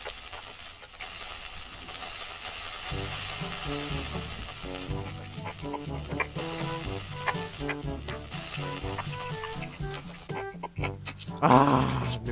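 Meat sizzling on a grill in Yakiniku Simulation, a steady frying hiss with scattered crackles and pops running throughout, ending in a brief burst of other game sounds.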